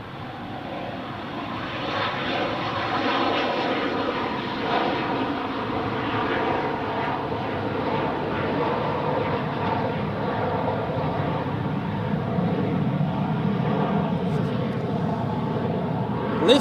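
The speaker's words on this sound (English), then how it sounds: "Lifted off just in time so that we could see it." An aircraft takes off at Zurich Airport, a loud, steady jet roar that holds at full strength for the whole stretch.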